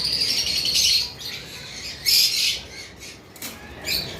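Lutino albino pied cockatiels give loud, harsh squawks in close bursts, several calls spaced over a few seconds with quieter gaps between.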